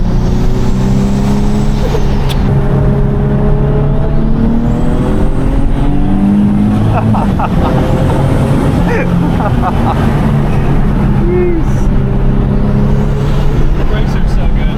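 Loud turbocharged Nissan 370Z NISMO VQ engine while driving, a heavy droning engine note with rising and falling tones as it revs through gears, with people talking over it.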